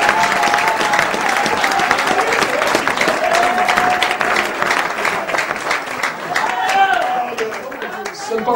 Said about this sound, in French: Acclamez pour le prophète Branham.